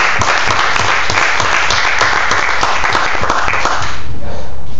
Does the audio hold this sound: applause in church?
yes